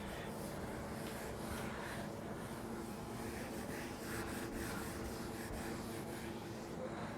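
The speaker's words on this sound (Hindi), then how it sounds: "इसको मिटा देते हैं" A board is wiped clean of writing during a physics lesson, with a soft, steady rubbing and scrubbing in short repeated strokes, close and fairly quiet.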